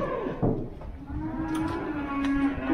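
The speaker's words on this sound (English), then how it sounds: "Good heifers." Heifers mooing in a field on limestone ground, one long, close, drawn-out low call filling the clip with no talk over it.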